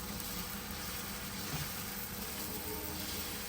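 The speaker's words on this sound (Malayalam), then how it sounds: "ട്രെയിൻ പോണ സമയായില്ലേ?" A train passes nearby, a steady broadband rumble with a hissing wash that holds evenly throughout, with no voices.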